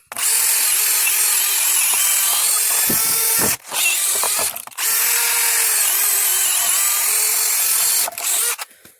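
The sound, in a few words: cordless drill boring with large bit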